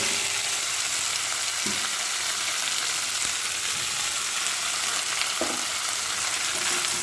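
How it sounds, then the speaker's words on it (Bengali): Potatoes, soybean chunks, beans and green banana fry in a pan while being stirred, giving a loud, dense, continuous sizzle with a few dull spatula knocks against the pan, up close and with no voices. "এভাবে নাড়তে থাকবো, এভাবে নাড়তে থাকবো"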